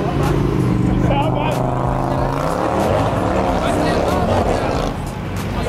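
A Dodge Charger RT's engine drones loud and steady from inside the car while driving through Dallas, with a deep continuous rumble that dips slightly near the end, and voices talk over it.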